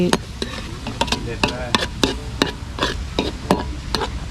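Chopped quail tossed with vegetables in a hot wok, with a steady sizzle punctuated by sharp, regular scraping clacks of a utensil against the pan, close and fairly loud.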